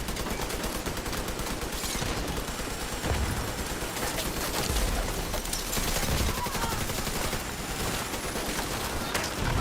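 Sustained automatic gunfire aimed at a turret during a firefight in the video game The Division 2, a dense continuous barrage of rapid shots filling the whole stretch without pause.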